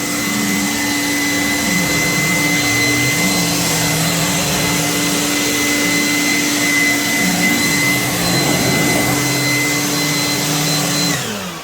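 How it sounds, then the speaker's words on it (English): Loud, steady high-pitched whine of a powerful blow dryer blowing water off a car, running continuously with a shifting airy roar, then shutting off at the end. "I still use a blow dryer to knock off the majority of my water"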